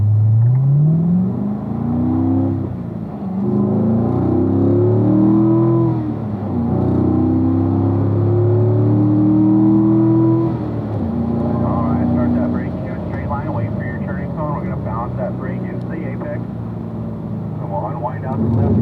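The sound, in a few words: car engine accelerating on track at driving school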